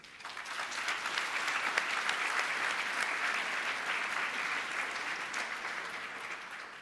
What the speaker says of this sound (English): This applause is one of the reasons why I love AJC.